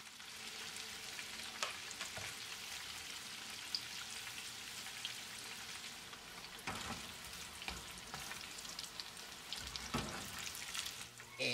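Tofu squares fry in a pan with a continuous, even sizzle and occasional spatters and pops, close and steady with no one talking.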